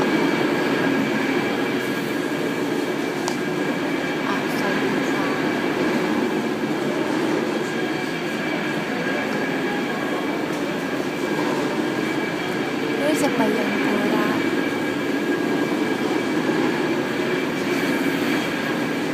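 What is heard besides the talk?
cable car moving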